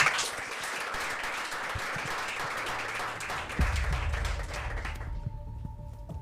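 Audience clapping at a French reading competition, a soft, steady patter of applause heard from a distance that fades out near the end, with a low rumble beneath it.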